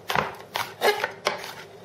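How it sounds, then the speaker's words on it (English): A knife chops garlic and red pepper on a cutting board for a spaghetti sauce, with four distinct bursts of close, crisp strikes spaced about a third of a second apart and no talking. "You're going to chop up your red pepper."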